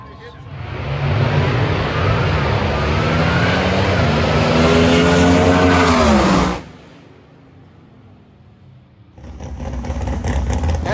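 Old-time drag racing car at a vintage drag race, its engine roaring loud and close for about six seconds with rising revs, then cutting off before another engine starts up in the distance.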